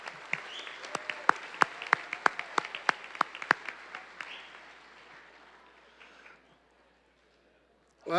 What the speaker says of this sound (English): can we please give a big round of applause for the Quapaw Nation Social Services?